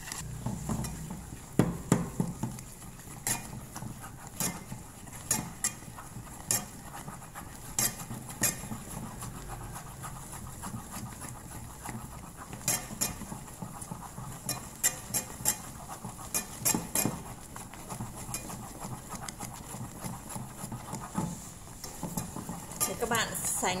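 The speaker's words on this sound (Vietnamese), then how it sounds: "Nước nguội để mình quấy tan để mình nấu lên nhé" Rice flour paste stirred in a cooking pot with a utensil, producing soft scraping and scattered clinks against the pot over a steady background hum, with occasional louder knocks.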